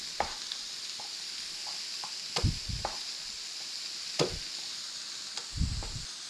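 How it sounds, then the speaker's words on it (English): A kitchen knife whacks garlic cloves for an Italian chicken cacciatore, a few sharp thuds spread over several seconds, one clear double knock and a heavier smack near the end, with a pan of oil faintly sizzling underneath. "And as per usual, just going to whack these with my knife."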